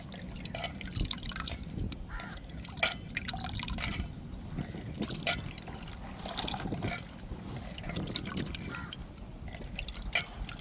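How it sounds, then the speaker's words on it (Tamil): Grated half coconut soaked in water is squeezed by hand to draw out coconut milk, with faint wet squelches, drips and splashes into a vessel coming in irregular bursts against a quiet background. "தேங்காய் பாலை நல்லா பிணைஞ்சு எடுத்துக்கிடுவோம்"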